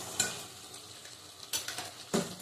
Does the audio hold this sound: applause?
no